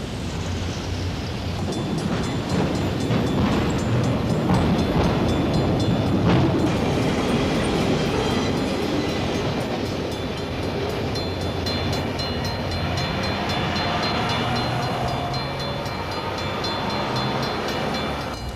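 A train rolls steadily past on the high-density Chicago to Los Angeles main line of the Emporia subdivision, a continuous rumble with wheel clatter and squeal lasting throughout, fairly close and unbroken.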